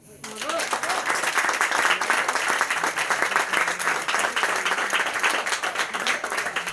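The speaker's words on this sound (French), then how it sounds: "Je vous demande de l'applaudir." An audience applauds during a gala evening for a French gastronomy and service team, honouring a long-serving chef. Thick, continuous clapping starts abruptly and holds at a steady, loud level throughout.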